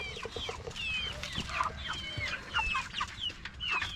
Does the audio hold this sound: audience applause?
no